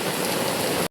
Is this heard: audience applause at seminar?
no